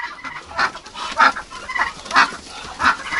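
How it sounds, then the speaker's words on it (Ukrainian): Ducks and other poultry being driven into a warm barn for a frosty night give a series of short, rhythmic clucks and quacks, about half a second apart, close by. "Зараз я зажену качок сюди."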